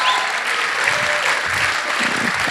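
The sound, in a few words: audience applause for the MCs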